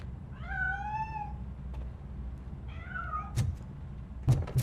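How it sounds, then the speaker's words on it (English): A cat in Robocop: Rogue City gives two distinct meows, the first longer and the second shorter, over a low ambient game hum, followed by a few sharp knocks or thumps. "That cat must be hiding inside."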